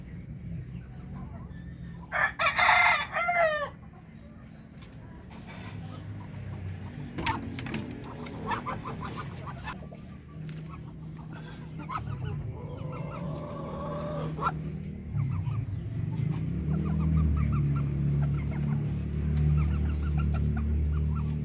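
Backyard chickens in their pens: a rooster crows loudly and close by near the start, then hens cluck and murmur intermittently over a low, steady background rumble.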